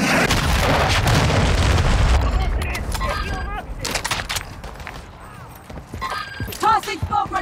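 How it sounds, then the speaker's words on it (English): Grenade blasts from Call of Duty MW3 multiplayer, heavy booming detonations loud at first, then scattered sharper bangs and debris with voices calling out over the battle. "Throwing grenade!"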